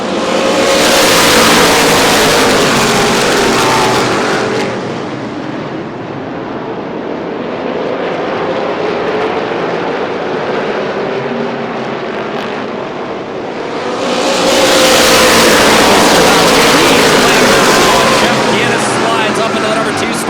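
Late model race cars at Kalamazoo speedway roar past loudly, swelling as the pack nears, dipping to a distant drone and surging again on the next pass, with a commentator speaking over the engines.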